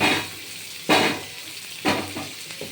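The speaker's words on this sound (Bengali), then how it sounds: "ছেড়ে দিলাম আমটা একটু ভেজে নেব" Mango pieces fry in a pan for achar, a constant close sizzle broken by two louder bursts as the pieces are stirred.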